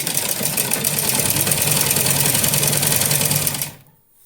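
A sewing machine stitches the hem of a small dress in a loud, steady, rapid mechanical chatter that runs close up for about three and a half seconds, then cuts off into near silence.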